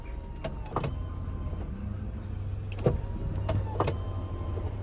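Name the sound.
BMW E36 power window motor rolling up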